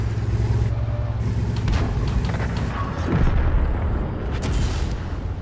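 Artillery shells hitting a tank in the World of Tanks video game: a loud, dense barrage of booms and impacts over constant engine and battle rumble, with several heavy hits in quick succession.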